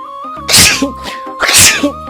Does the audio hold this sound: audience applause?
no